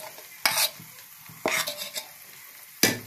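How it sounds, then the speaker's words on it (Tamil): Blended tomato paste sautéing in oil for tomato thokku, with three distinct bursts of spoon stirring and scraping in a pan over a soft, close sizzle; no voices. "இது வந்து மிக்சியில் அடித்து வச்சிருக்கா தக்காளியை போட்டு நல்லா வதக்கலாம்"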